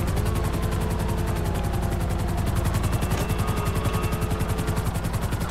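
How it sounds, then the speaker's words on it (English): A Grand Theft Auto V helicopter thrums steadily, its rotor chopping in a fast, even pulse that grows slightly more pronounced toward the end. "There's helicopters here!"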